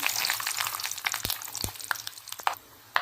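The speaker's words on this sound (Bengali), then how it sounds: "ওই একই কড়াতে তেজপাতা আর গরম মশলা দিয়ে নেব।" Bay leaves and whole garam masala fry in hot oil in a kadai, a bright continuous sizzle broken by a few sharp metallic knocks and scrapes from a spatula, close and fairly loud, without talking.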